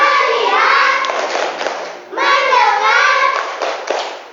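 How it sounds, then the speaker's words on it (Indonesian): A classroom of children does a rhythmic focus clap led by their teacher, chanting together in unison with sharp hand claps and thumps punctuating the voices up close. "Coba kita cek dengan tepuk fokus"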